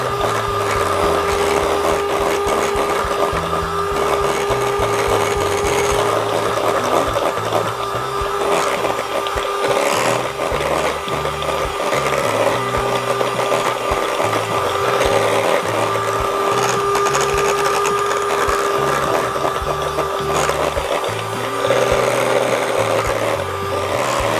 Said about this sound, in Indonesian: Ini kita mixer sampai adonannya fluffy dan mengembang.